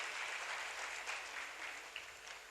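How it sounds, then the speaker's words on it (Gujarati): An audience at a religious gathering applauds to welcome saints with continuous dense clapping, steady and moderately distant, with no voices standing out. "આપણે તાળીઓના નાદથી સંતોને વધાવીએ"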